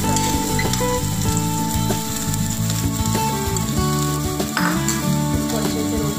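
Onion and dry red chilies fry in a hot pan for chicken, a steady loud sizzle with crackling spatters throughout and occasional stirring scrapes, no talking.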